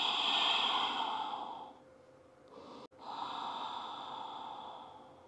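Slow, gentle yoga breathing close to the microphone: a long airy inhale, a pause, then a long soft exhale, with no speech over it.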